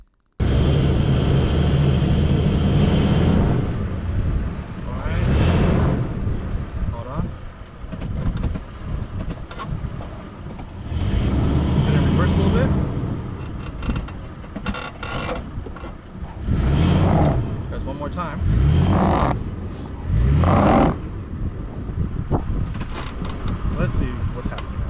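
A truck in two-wheel drive tries to drive out of a stuck spot on recovery tracks, its engine revving hard in repeated loud surges that rise and drop between grinding, clunking spells, with a person talking between efforts.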